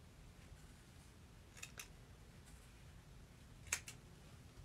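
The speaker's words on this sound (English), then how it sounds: "Now I'm just gonna snip these apart." Scissors snip apart pressed quilt fabric pieces at an ironing station, a few faint, quick clicking cuts in a quiet room, spaced irregularly.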